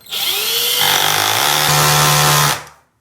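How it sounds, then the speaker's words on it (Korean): A power drill bores a hole through a plastic Brita water filter cartridge, loud and close, whining steadily for a couple of seconds and then stopping abruptly. "자, 구멍을 뚫을 거예요."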